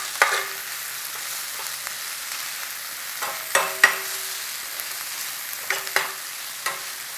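Onions drop into a hot pan of spluttering oil and fry with a steady soft sizzle, broken by a few sharp crackles and pops; no one speaks over it.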